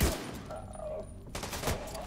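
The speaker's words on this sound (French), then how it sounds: "Hunting rifle!" Gunfire from a hunting rifle in The Division 2, a loud report at the start and another burst near the end, with in-game noise and faint voices between.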